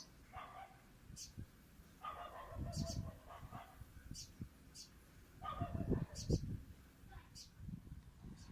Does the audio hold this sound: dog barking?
yes